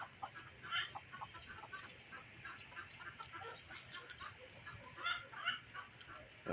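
Backyard chickens beside a newly built little coop cluck softly and intermittently, faint and somewhat distant over a low background hiss.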